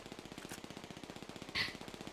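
Rapid automatic gunfire in the online game GTA V, a steady fast rattle of evenly spaced shots throughout, fairly quiet, with one brighter sharp burst partway through and no talk.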